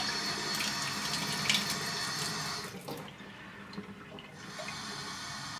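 Cold tap water runs steadily into a container, measured out for a 35mm film developer mix, a continuous close splashing rush that thins and drops off about halfway through.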